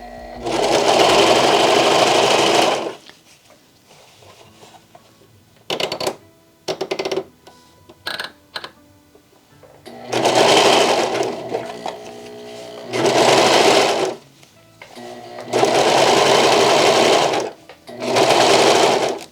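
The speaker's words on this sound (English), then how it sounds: "I'm gonna just go ahead and serge them edges real quick just to be sure" A serger overlocking the edges of satin fabric for a bonnet runs in loud, close bursts of rapid mechanical whirring, stopping and starting with short pauses and a few clicks between runs.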